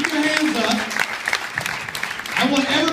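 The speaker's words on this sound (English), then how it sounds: "Give them a huge round of applause." Applause from a crowd fills the clip, steady clapping throughout with voices calling out over it, swelling again near the end.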